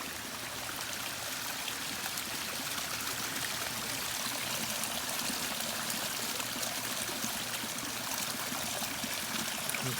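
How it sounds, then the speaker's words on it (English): Water trickles and splashes steadily from a garden pond water feature, a continuous close rushing flow below a small waterfall with no voices, holding an even level throughout. "this is the top pond of this part of the water feature."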